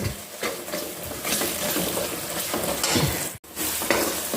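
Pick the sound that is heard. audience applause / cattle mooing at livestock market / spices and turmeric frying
spices and turmeric frying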